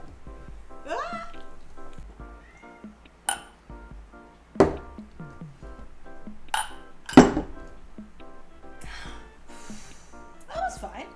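Soju glasses clink together in a toast, a couple of sharp bright chinks standing out amid lively talking, exclamations and laughter nearby.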